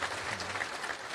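Brief, steady clapping from a live audience at a wrestling-related talk event, a dense patter of many hands heard close and continuous.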